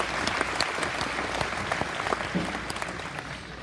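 An audience claps for an executive committee and staff at the Arizona National livestock show, a dense, steady burst of applause at a moderate distance, fading slightly toward the end.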